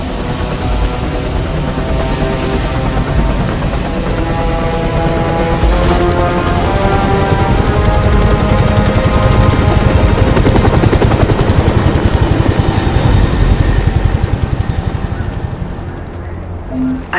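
Helicopter in the tactical shooter SOCOM 4, a loud steady rotor and engine roar that holds at close range throughout, with a whining turbine tone sliding upward before easing off near the end.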